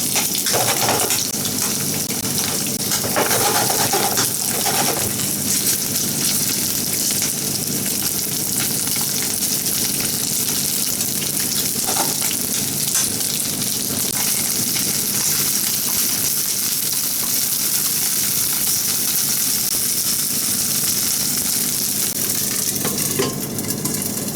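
Chicken liver fries gently in a pan on low heat for a liver and chive stir-fry, a steady, dense sizzle and crackle that holds evenly throughout, close and loud, with no speech.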